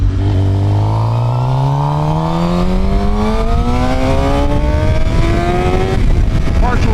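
Suzuki GSX-R 750 sport bike fitted with a 16-tooth front sprocket, ridden at wide open throttle: a loud, close engine note climbing steadily in pitch through a long pull, with wind roar underneath and a rider's voice mixed in.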